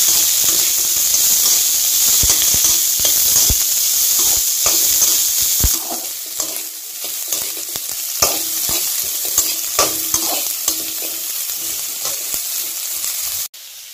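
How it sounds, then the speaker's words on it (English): Onions fry in a pan with a loud steady hiss and sizzle while a spoon stirs through them in frequent scraping knocks. Partway through, the sizzle drops lower and the stirring continues more sparsely before stopping abruptly. "Now I'm gonna add the onions, pretty much. Just mix it up."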